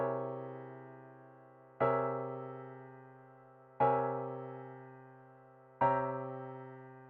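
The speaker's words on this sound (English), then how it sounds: "Here is the sound of each chord with the root added in the bass voice." Four-way close-position jazz chords with the root added in the bass, struck three times at even two-second intervals, each sustained and slowly decaying, heard alone without talk.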